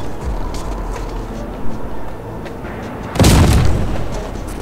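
A grenade explodes in the video game Project I.G.I., a single loud, close boom with a broad rumbling burst and a short decaying tail after a stretch of quieter ambience.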